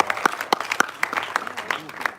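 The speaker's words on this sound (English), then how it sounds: "So big round of applause for that." Audience applause at the Jersey film trailer launch with Shahid Kapoor, a short burst of scattered claps with sharp individual hand strikes standing out, mixed with crowd voices.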